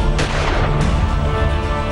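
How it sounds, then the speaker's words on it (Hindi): Gunfire echoing from a DPS school compound in Srinagar during a security operation, heard as a loud sharp crack followed by a sustained rumbling reverberation with another report near the end, with no voices. "गोलियों की ये गूंज श्रीनगर के उसी डीपीएस स्कूल के अहाते से आ रही है"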